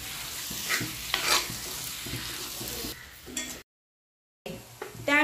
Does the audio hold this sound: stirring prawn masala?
yes